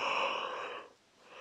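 A woman yawns during an evening prenatal yoga session: one long, breathy, drawn-out exhale that fades and ends in a soft breath, heard close and alone.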